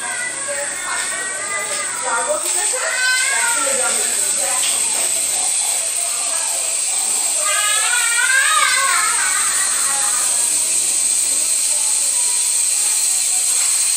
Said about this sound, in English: So the cooker start sizzling, so you can hear the sound.